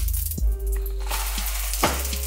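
A crêpe cooks in an oiled frying pan, giving a soft sizzle under faint clinks and a few low knocks, close and with no talk.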